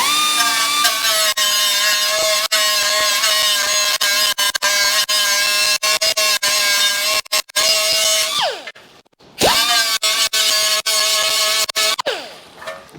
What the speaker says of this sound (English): cut the studs off, and then just grind them back off